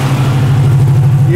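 A Plymouth Cuda muscle car's engine revs hard and steadily as it pulls away from a big street muscle car meet in Tempe, a loud, close, continuous growl with crowd voices underneath.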